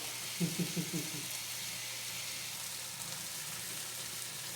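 A beef roast sears in a pan with a steady, soft hiss of sizzling fat, continuous and close, while someone speaks briefly over the frying.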